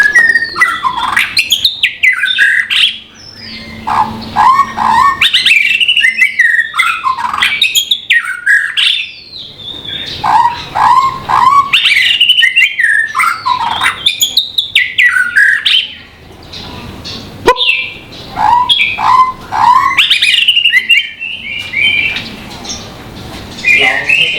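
Pet songbird singing loudly and continuously up close, with repeated bright whistled phrases, chirps and squawky notes and only brief pauses.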